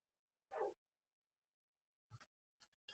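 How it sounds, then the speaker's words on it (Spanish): Small pet dogs barking indoors in the distance, one short bark followed by a few quieter yips and clipped barks after a pause, faint and with no talking. "mis perritas están locas"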